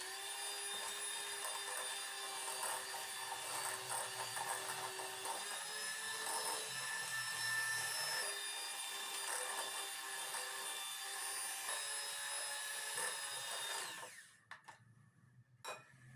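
An electric mixer beats eggs into chocolate sponge cake batter with a steady, close whirring whine that holds for about fourteen seconds, then cuts off abruptly, leaving near silence.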